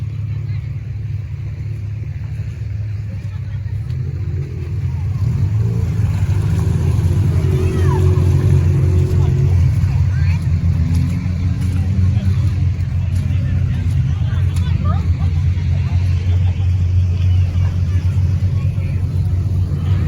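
Demolition derby cars rolling in for inspection at a county fair derby, with a loud, continuous low engine rumble that grows heavier partway through, and a crowd murmuring beneath it.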